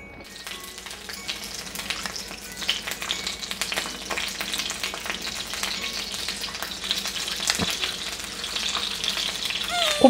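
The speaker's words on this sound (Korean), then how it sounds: "곱창대창 구우실 때는 기름 튀기는 거 조심하셔야 돼요" Beef intestines, small gopchang and large daechang, grill in oil on a hot pan with steady close sizzling, dense popping and spattering crackles, plus a few sharper pops near the end.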